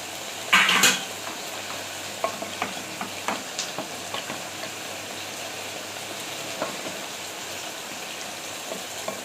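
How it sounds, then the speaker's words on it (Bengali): Fried eggs dropped into a simmering potato curry, a soft bubbling sizzle with a brief clatter at first and then light scattered clinks of a spoon against the pot, close but fairly quiet, no voices. "তারপরে ডিমগুলো এবারে দিয়ে দিচ্ছি"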